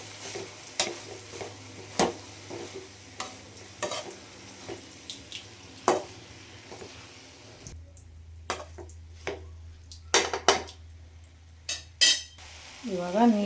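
A spoon stirs a cluster bean stir-fry with peanut powder in a hot pan, giving repeated scraping clinks over a soft sizzle, with a few louder knocks of the utensil against the pan.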